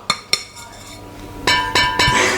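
New Tefal pots and kitchenware in a condo kitchen clink sharply, two quick metallic knocks followed by three more ringing taps with a lingering tone, close and fairly loud.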